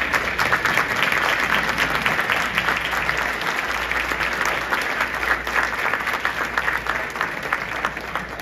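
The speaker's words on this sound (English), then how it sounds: "if y'all would all stand up and just everybody give them a big round of applause" Sustained, dense applause from a standing audience at a business associations' annual meeting and celebration, steady and loud throughout with no pauses.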